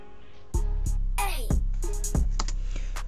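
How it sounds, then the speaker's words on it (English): Trap beat made in FL Studio 20 with a low-pass filter, so it sounds muffled and underwater, with a heavy sustained 808 bass and kick hits under smeared, dulled upper percussion in a steady loop. "This is how it will sound like with the love filter, kind of like that underwater effect."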